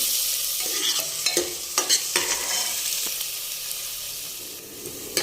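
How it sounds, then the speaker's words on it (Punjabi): Chopped onions frying in a pan with cumin, a steady bright sizzle punctuated by several scraping stirs of a spoon, close and continuous with no talking. "ਪਿਆਜ਼ ਨੂੰ ਆਪਾਂ ਬ੍ਰਾਊਨ ਹੋਣ ਤੱਕ ਭੁੰਨਾਂਗੇ"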